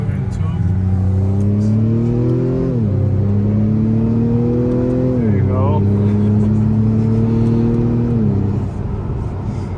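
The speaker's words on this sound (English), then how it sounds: "It changes the gears really quick with the paddle shifters as well." A 2021 Acura TLX A-Spec engine revving up through the gears, its drone climbing then dropping sharply at each quick paddle-shift upshift, three shifts in a row, loud and close from inside the cabin.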